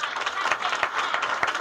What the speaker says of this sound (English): by applause, is this your first time here?